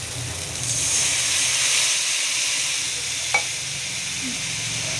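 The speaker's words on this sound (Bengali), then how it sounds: "এবার আমরা জল দিয়ে দেব" Water poured onto hot, oil-fried spice masala for a Lotte fish curry sets off a steady, loud sizzle and hiss that carries on throughout, with a faint clink near the end.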